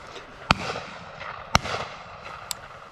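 Three sharp, distant shotgun reports at driven pheasant on a Herefordshire syndicate shoot, evenly spaced about a second apart, each a brief crack over quiet outdoor background.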